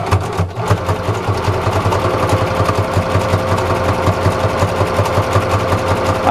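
A sewing machine is stitching a zigzag pattern across a homemade dish-washing sponge, giving a steady, fast mechanical chatter with regular pulsing beats, close and continuous.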